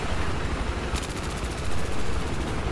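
Rapid automatic gunfire in Battlefield 4 on the Golmud Railway map, dense bursts of rattling shots blending into a constant roar of battle noise with no voices.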